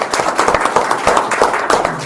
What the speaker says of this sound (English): let's give them a round of applause for what they're